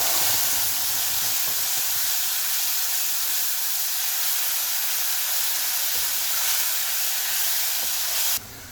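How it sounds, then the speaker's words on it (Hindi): Tomato puree cooks in a pan with fried ginger garlic paste, giving a loud, continuous broadband hiss and sizzle that runs evenly for about eight seconds before cutting off abruptly. "अदरक लहसुन भुन जाने के बाद इसमें टमाटो प्यूरी डालेंगे"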